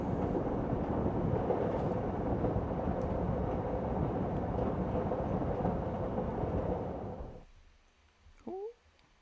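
Train arriving, a loud continuous low rumble and roar that fades out near the end, followed by a brief higher squeal.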